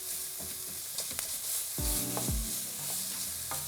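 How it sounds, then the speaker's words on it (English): Ground beef with carrots and celery sizzles steadily in a pan while a utensil scrapes and stirs it, producing a couple of distinct scraping strokes over the constant frying hiss, no voices. "I'm gonna stir this together."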